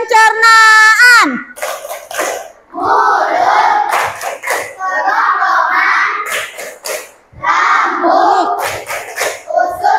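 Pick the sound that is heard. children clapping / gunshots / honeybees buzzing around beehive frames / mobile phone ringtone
children clapping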